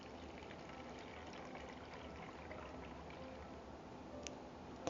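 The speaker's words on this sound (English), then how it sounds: "And I have my funnel, and I'm just pouring it in there." Homemade cranberry orange clove body wash pours through a funnel into an 8-ounce pump bottle, a faint, continuous liquid trickle running throughout with no pauses.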